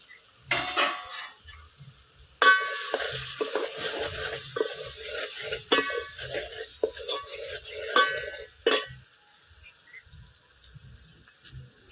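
A ground chilli-sugar spice mix is stirred into a gravy in a pot, with scraping spoon strokes and clinks against the metal in irregular bursts over a soft sizzle, then fading to quiet.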